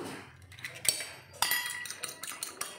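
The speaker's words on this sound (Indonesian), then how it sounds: "Lalu 1 butir telur yang sudah kita siapkan tadi, kita kocok lepas." A single egg is beaten in a bowl to coat fried milkfish. A fork or utensil strikes the bowl in quick, irregular clinks and taps, up close and alone with no talking.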